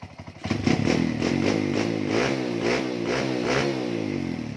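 A Honda Wave 100 converted to a dirt bike, running a tuned carburetor, revs steadily with a pulsing, buzzy exhaust note that rises and falls in repeated throttle blips, loud and close with a faint mechanical clatter.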